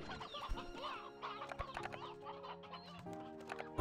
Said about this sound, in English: These, all these chickens.